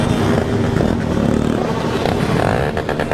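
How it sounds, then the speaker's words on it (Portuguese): A group of motorcycles heading downhill at night on a Christmas night ride, a loud, continuous, close engine roar with rattling and clatter throughout. "Olha as motocas descendo."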